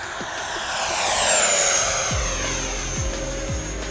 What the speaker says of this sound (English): the Flyfans J-20 Mighty Dragon twin 70mm EDF jet